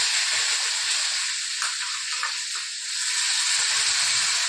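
Chopped onion and tomato sizzling in hot oil with curry leaves, a steady bright hiss of frying that fills the pan, with faint low clatter underneath.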